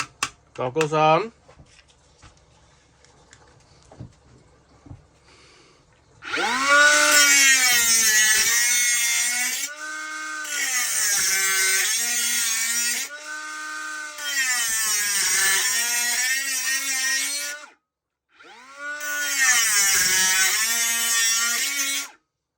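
A DMC 500 cut-off tool slicing through thin steel tubing, a high whining grind in several long bursts that rise and fall in pitch, with short pauses between cuts.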